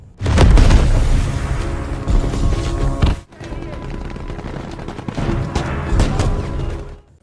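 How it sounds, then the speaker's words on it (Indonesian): A sharp smoke grenade launching blast in a film, followed by loud, sustained rumbling and crackling, then a second burst of dense gunfire-like noise, with a brief dropout between them. "Setelah tembakan asap dilepaskan ke udara"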